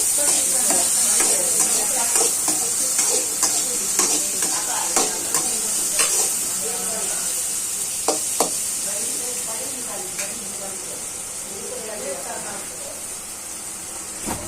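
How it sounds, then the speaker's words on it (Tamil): Paneer cubes stirred and frying in a pan, with a steady loud sizzle and repeated scraping knocks of the spoon throughout, no talk. "பன்னீர் போட்டதுக்கப்புறம் அதை நல்லா கிண்டிக்கலாம்."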